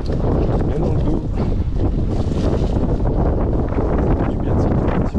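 Steady, loud wind buffeting across the microphone while riding in a group of cyclists into a headwind at the Beaujolaise 2024 ride, continuous broadband roar throughout.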